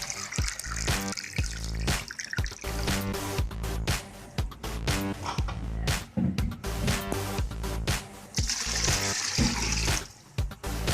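Water splashes and trickles steadily onto rice in a pot for beef yakhni pulao, a loud close pour with gurgling surges and drips and no talk over it.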